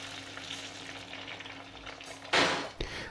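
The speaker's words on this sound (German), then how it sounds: "Wir erhitzen eine Pfanne mit Butterschmalz und dort geben wir dann das Eiweiß" Egg whites fry in a pan of hot clarified butter, starting as a low, steady crackle, then breaking into a loud burst of sizzling that fades and flares again briefly near the end.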